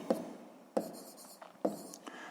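A pen writes on paper during a sixth-grade math exercise, three short bursts of scratchy strokes separated by pauses, close and quiet.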